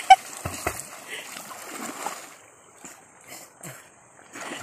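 A mother splashes water while bathing: intermittent pours and splatters, sharp at first and then softer and scattered, close by, with brief voices between the splashes.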